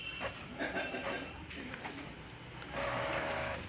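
A Canon GX3070 ink tank printer runs a test page on A4 paper, giving off a steady mechanical whir with repeated soft clicks and pulses from the paper feed and print head, moderately loud and without talk.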